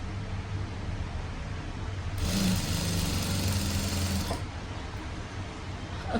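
A sewing machine stitches thread piping using a normal presser foot, a close mechanical whir that runs for about two seconds in the middle over a steady low background hum, with no talk.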